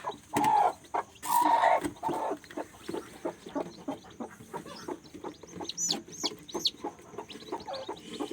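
A hen clucks close by her newly hatched chicks, giving a few loud bursts early on, then a run of soft, rapid clucks and peeps that continue to the end.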